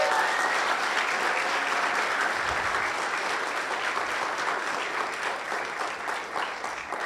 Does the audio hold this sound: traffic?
no